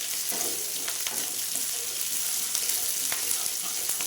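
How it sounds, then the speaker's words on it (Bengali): Onions sizzle and fry steadily in a hot pan, a continuous bright hiss with occasional small pops and crackles, close and fairly loud, with no voices. "পেঁয়াজটা লাল লাল করে ভেজে নেব"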